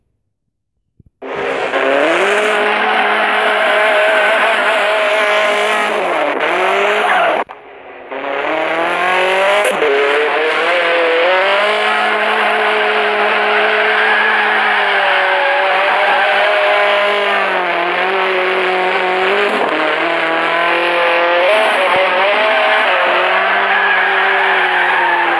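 Drifting car in a racing video game, a loud, sustained engine drone with long tire squeals that waver in pitch, broken by one brief dip midway before resuming.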